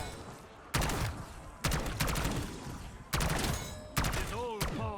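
A sentry turret in Call of Duty Black Ops 6 Zombies fires repeated loud bursts of rapid gunfire, four or five volleys separated by short gaps, with a whining ricochet-like tone near the end.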